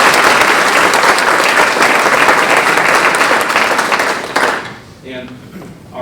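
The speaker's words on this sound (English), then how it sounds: "How about a little round of applause?" A crowd at a county foundation's fall grant celebration breaks into loud, dense applause lasting about four seconds, which then fades out as a voice begins speaking.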